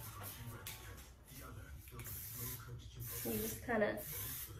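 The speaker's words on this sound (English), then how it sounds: "pick them up and spray them." A can of hair spray hisses in several short bursts onto hair styled into loose beach waves with a flat iron, while someone talks quietly over the sprays.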